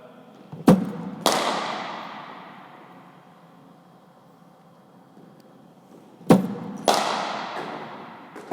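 Two pairs of sharp cracks from a cricket bat striking the ball during a batting coaching session, each pair close together with a ringing decay, the pairs spaced several seconds apart with quiet between them.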